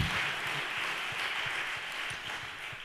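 An audience applauds at an indoor event, a dense, steady patter of many hands clapping together that carries on without a break and fades a little toward the end, with no talk.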